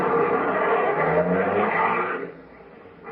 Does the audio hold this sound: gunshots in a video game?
no